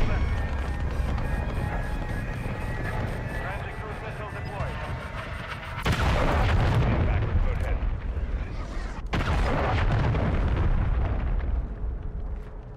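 Rockets launch and explode in a video game, with two loud blasts that each kick in abruptly and then roar and rumble for a few seconds, following a steady stretch of game noise with a voice talking throughout.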